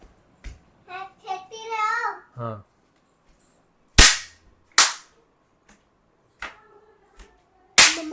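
Sharp cracks of toy snap firecrackers popping at Diwali, a few separate loud bangs spaced apart, mixed with a voice talking and babbling between them.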